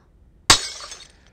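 A single sharp crash of glass breaking, close and loud, followed by a brief scatter of tinkling shards fading within about half a second, preceded by near silence.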